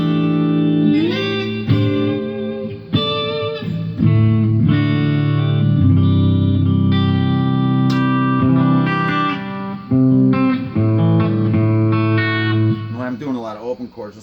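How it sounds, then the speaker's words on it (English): Epiphone or Harley Benton electric guitar strumming open chords, drenched in reverb with a compressed, sustained tone, playing steadily and loud without any voices. "So now we got our reverb. And some compression."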